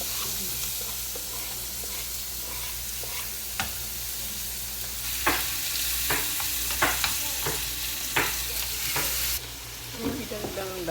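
Carrots and green peas stir-frying in a little oil, a continuous bright sizzle with repeated sharp scrapes and clacks of a spatula stirring the pan, close and unaccompanied by talk.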